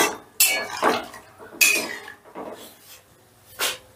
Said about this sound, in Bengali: এবার জলটা একটু নাড়াচাড়া করে মশলার সাথে মিশিয়ে দিচ্ছি।